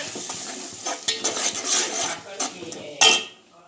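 Masala and tomatoes being sautéed in a pan for a Konkani mussel salan, with the scrape and clatter of a spoon stirring against the metal and a faint sizzle underneath.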